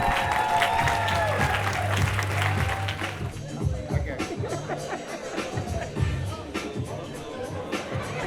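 An award ceremony audience applauds a winner walking to the stage, with dense clapping throughout and crowd chatter, following a voice over speakers at the start.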